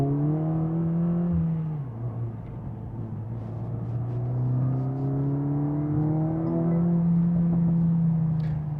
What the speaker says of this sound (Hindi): अगर आप कोस्ट कर रहे हो तो द इंजन ब्लिप्स।